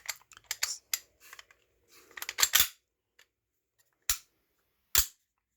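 A full-length slide fitted onto a SIG P320 X-Compact grip, giving a burst of close metallic clacks and scrapes followed by two isolated sharp clicks.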